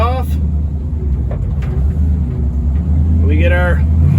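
A Ford Model T-era car fitted with a two-speed Ruckstell rear axle pulls away in first gear, its steady low engine rumble running throughout with someone talking briefly over it.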